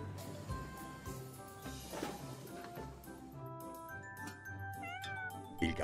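A cat meows a few times amid busy playful music, the cries blending with the melody.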